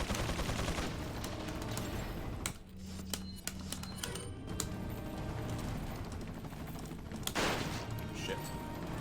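Rifle gunfire in the video game Resident Evil 4, a dense run of sharp, loud shots clustered at the start and again late in the clip over steady game sound, with a short lull between.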